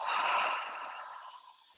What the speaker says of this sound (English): breathing out through the mouth